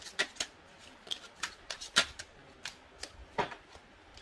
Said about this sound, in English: Give me two cards.